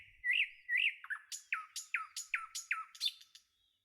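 A house sparrow gives about a dozen sharp chirps in a quickening series, each a bright, clear note close by, with nothing else around.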